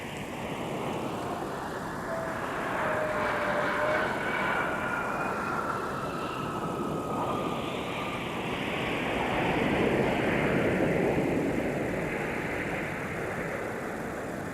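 Jet aircraft at Minneapolis–Saint Paul airport on a winter day, a steady broad engine roar that swells and fades as planes taxi and pass at a distance, continuous throughout without talk.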